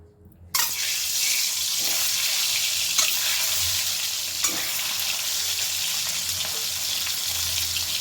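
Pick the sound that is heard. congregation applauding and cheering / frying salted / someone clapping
frying salted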